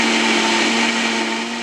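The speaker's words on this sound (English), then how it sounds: "I'm going to seal it up and go back to my blender. Let's start blending again." A blender runs loud and continuous at a constant pitch, blending cassava, its motor whirring steadily throughout.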